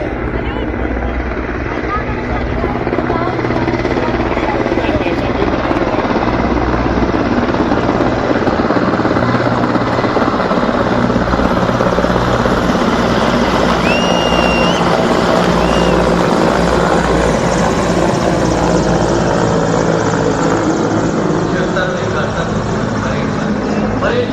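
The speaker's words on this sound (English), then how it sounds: "The helicopter from 109 helicopter unit proudly flying with the unit's motto" Indian armed forces helicopters fly over the Republic Day parade in New Delhi, a loud, continuous rotor thrum and turbine roar holding steady throughout, with a commentator's voice audible beneath.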